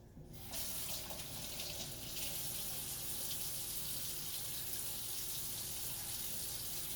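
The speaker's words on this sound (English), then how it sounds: "Wash my hands again." Tap water runs steadily into a kitchen sink for hand washing during cooking. After a quiet start it becomes a constant rushing flow, close by, with no talking.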